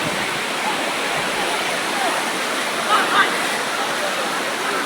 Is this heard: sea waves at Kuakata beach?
yes